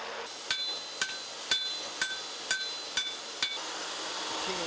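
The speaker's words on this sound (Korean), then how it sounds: "두드리는 작업이 반복됩니다." A blacksmith in a rural forge hammers heated steel for a Damascus knife, seven sharp ringing blows in a steady rhythm about half a second apart, close and clear with no talk.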